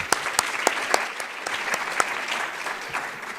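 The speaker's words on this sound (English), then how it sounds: "let's clap for Jordan delegates." An audience at a closing session applauds Jordan's delegates, a continuous wash of clapping with sharper individual claps popping through at irregular intervals.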